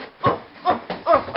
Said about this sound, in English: Random dog.